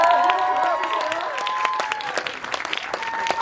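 A seated audience claps for director Lee Jung-jae at a Korean film talk event for The Spring of Seoul. Steady applause is joined by some cheering, while a voice with harmonic tones runs over it in the first half.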